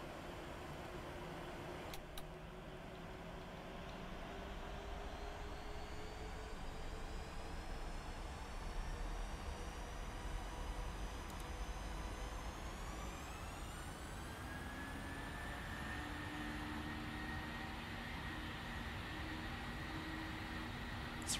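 Jet engines on a PMDG 737 in the Prepar3D flight simulator spool up to takeoff thrust on a night departure from Los Angeles, a faint, steady roar with rising whining tones that climb and hold, without speech.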